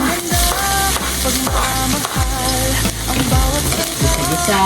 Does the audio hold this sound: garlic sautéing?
yes